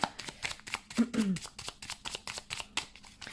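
Lenormand cards handled and laid down, a quick run of soft flicking, riffling taps, with a brief murmured voice partway through.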